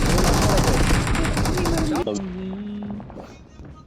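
Rapid gunfire bursts from a PUBG Mobile match, loud and dense for two seconds before dropping to sparser shots and game sounds, with players talking over it.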